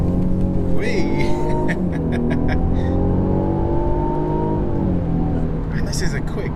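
A 2019 Mercedes E350 with a 2.0-litre engine accelerating under full throttle from inside the cabin, a steady rising engine drone that holds loud throughout.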